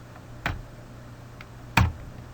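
An Enter key pressed on a computer keyboard while working in a LibreOffice Calc spreadsheet, heard as two crisp, close clicks about a second apart over a quiet room hum.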